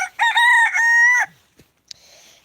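A rooster crows once, loud and near, during chicken feeding, followed by a couple of soft clucks and a brief chirp.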